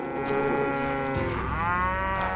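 Cattle lowing in the western shooter game Call of Juarez: Gunslinger, one long, loud, drawn-out moo with a bending pitch, heard alone with no talk.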